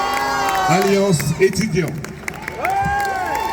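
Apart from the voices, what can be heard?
crowd applauding and cheering at rally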